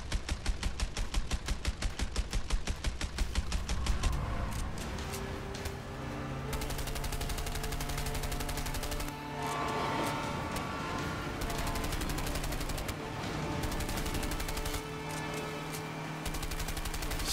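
Rapid gunfire from the video game A Way Out, dense automatic bursts rattling continuously at a loud, close level, with repeated sharp reports and no talking.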